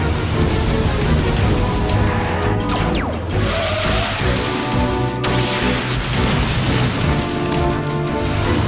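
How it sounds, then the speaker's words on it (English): Cartoon laser cannons fire amid a dense, loud wash of crashing noise. Sharp descending zaps sweep across the continuous din. "Laser, fire!"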